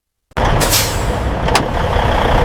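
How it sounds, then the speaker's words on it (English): Refrigerated truck preparing for departure, its engine starting up abruptly after silence and then idling loudly and steadily, with two short sharp air-brake hisses. "With all checks complete, the refrigerated truck prepares for departure."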